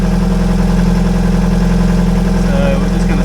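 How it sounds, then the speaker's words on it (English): A yacht's diesel engine idles during repair work in Vanuatu, a loud, steady low drone with constant vibration close by and unbroken across the whole stretch. "I'm just going to idle it, let it run for, let it run for 5 minutes or so"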